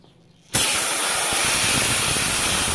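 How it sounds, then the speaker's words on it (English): A blast of compressed air cuts in abruptly after a brief quiet moment and continues as a loud, close, steady hiss while cleaning small parts from a 2015 Can-Am DS90 during an oil change. "With compressed air, now that we've cleaned them."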